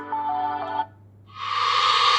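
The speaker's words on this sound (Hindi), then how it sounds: "जो म्यूजिक है वो प्ले हो रहा है मेरे फोन में।" A short, tinny melody plays from a small phone speaker, breaks off briefly, then a brighter, hissier passage resumes.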